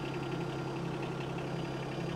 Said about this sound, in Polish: możesz odpalić silnik.